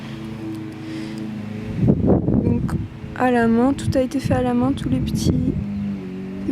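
A motor drones steadily in the background throughout, like a lawn mower running outside, while someone talks close by over it.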